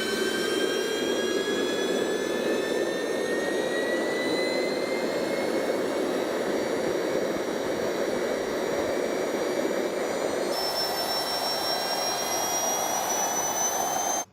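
A miniature jet engine runs steadily, a loud, continuous roar topped by a thin high whine that climbs slowly in pitch, then cuts off abruptly at the very end.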